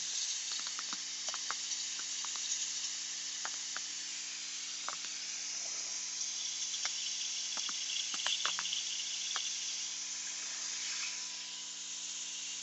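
A steady high-pitched mechanical hiss runs throughout, with faint clicks and ticks scattered over it, like a small vacuum pump running close by, drawing brake fluid while bleeding a car's brakes.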